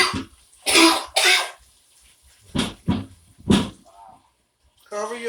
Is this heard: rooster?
no